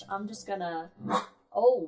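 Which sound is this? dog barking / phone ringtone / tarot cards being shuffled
dog barking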